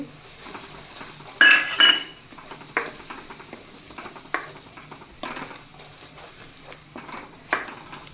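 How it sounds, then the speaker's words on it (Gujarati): Onion hits hot oil in a pan for kaju gathiya shaak, giving a burst of sizzling followed by a steady low fry, with occasional spoon scrapes and clinks against the pan. "આપણે તેમાં ડુંગળી એડ કરી દઈશું અને ડુંગળીને આપણે થોડીવાર માટે ચડવા દેશું"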